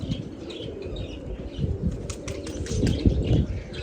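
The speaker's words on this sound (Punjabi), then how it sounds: "ਇਹ ਕਬੂਤਰ ਸਾਰੇ ਉੱਪਰੋਂ ਆਏ ਆ" Domestic pigeons flying in from above, their wings flapping in several close bursts that grow louder toward the end, with a few faint bird calls in the background.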